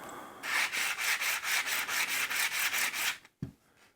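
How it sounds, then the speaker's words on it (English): Sandpaper rubs a small Holley 4160 carburetor part during a rebuild, about a dozen even back-and-forth strokes in steady rhythm, close and clear, ending with a brief knock. "I'm gonna make sure my little flapper doesn't get sanded"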